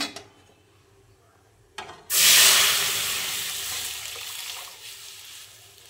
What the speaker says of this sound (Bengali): তো এই ডালটা দিয়ে দেবো এবার ফোড়ন।